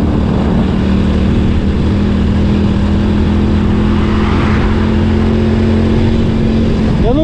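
A Honda Biz 100 motorcycle ridden down the Serra Dona Francisca mountain road, its small engine droning loud and steady throughout with constant wind rush and no speech.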